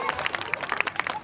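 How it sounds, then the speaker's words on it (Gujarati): Scattered applause from an audience at a school annual function, Rangotsav 2026, with distinct individual claps sounding fairly thin and uneven over a low murmur. "એકવાર જોરદાર તાળીઓ થઈ જાય"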